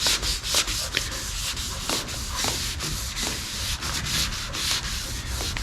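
Steady wet sanding on the paint of a 1963 Chevrolet Bel Air panel, a continuous rasping rub with regular back-and-forth strokes, close up and with no voices.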